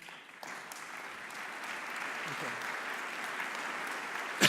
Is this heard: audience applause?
yes